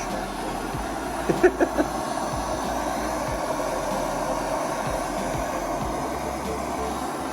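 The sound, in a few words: heating stuck old Ford door hinges to free pins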